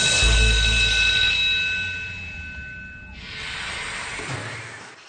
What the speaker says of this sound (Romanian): Auzi ce zice soneria?